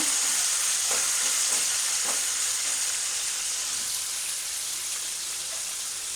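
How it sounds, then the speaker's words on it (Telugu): Onions roast in a pan with a constant close hiss and sizzle, and a few light stirring scrapes come early before the frying continues evenly on its own. "ఆనియన్ వేసాక కూడా అటు ఇటు కలుపుతూ రోస్ట్ చేసుకోవాలి."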